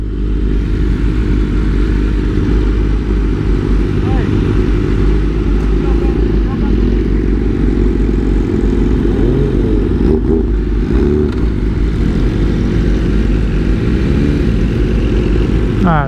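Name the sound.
BMW M1000RR motorcycle accelerating during a timed Dragy run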